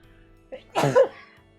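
A single sneeze with a short sharp inhale and a burst of breathy noise, close and fairly loud, followed by quiet.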